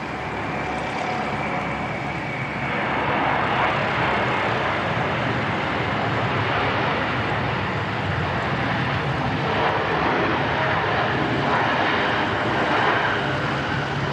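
An airplane lands at Christchurch Airport with a broad, steady engine roar that stays loud and fairly close throughout, swelling slightly partway through, with no speech.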